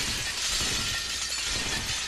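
Glass shatters in the dark fantasy video game Dark Souls 3, a loud, dense, continuous crash of breaking panes filling the whole short moment with no voices.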